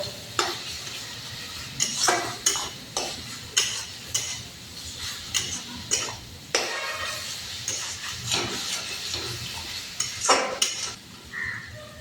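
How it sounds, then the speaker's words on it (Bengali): Boiled potatoes stirred with spices in a pan, close repeated scraping and clanking of a utensil against metal in irregular bursts over a faint sizzle. "সিদ্ধ করে রেখে আলু দিয়ে দিব, এত মশলা নাড়াচাড়া করে।"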